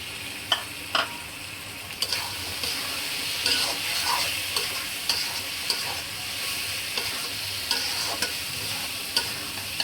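Chopped tomatoes frying with chicken curry masala in a home kitchen pan, with a continuous close sizzle broken by intermittent stirring scrapes and knocks of the spoon.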